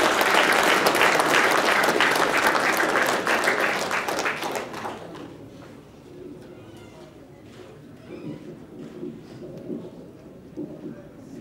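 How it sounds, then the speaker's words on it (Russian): Audience applause at a Russian concert of authored songs rings out dense and loud for several seconds, then fades away into a quiet hall with scattered sounds. "Ваши аплодисменты."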